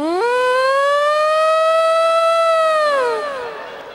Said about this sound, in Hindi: और पीछे पीछे फायर ब्रिगेड।